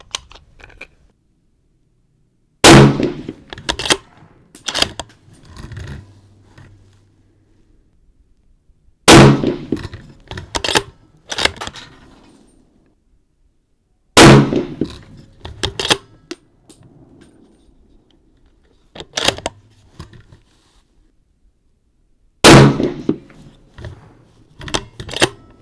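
A Mauser M18 rifle fires Hornady 168 grain ELD Match rounds. Five loud, sharp reports come several seconds apart, each followed by a few quieter metallic clacks from working the bolt, with silence in between.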